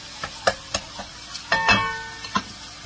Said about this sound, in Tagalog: Ngayon, pwede na natin ilagay ang ating baga.